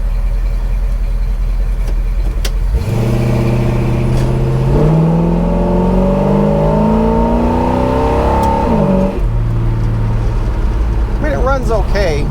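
A 1966 Ford Galaxie 7 Litre with a 428 engine, shifted by hand at near full throttle, roars loudly and climbs in pitch, with gear changes breaking the rise about twice.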